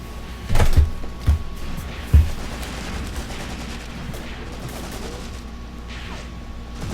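Gunfire in the Graviteam Tactics Mius Front war game: three sharp, heavy reports near the start, then distant scattered shots over a constant low battlefield rumble, no talking.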